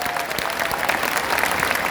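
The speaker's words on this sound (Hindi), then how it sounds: "मेरे माताजी पिताजी के लिए भी जोरदार तालियां बजा दीजिए" Loud, dense clapping from a seminar audience of students, cheering on the speaker's parents, a steady burst of many hands.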